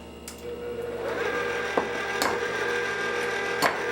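An electric stand mixer running on low speed, a steady mechanical whir with faint periodic clicks and rubbing, close and continuous, no voices.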